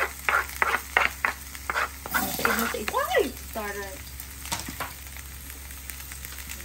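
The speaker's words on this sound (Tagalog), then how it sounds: "Maghahalo lang tayo ng very light." Leftover fish-stuffing ingredients, garlic and onion, stirred lightly in a hot pan, giving soft scraping and clinking strokes over a faint sizzle, with a person speaking briefly partway through.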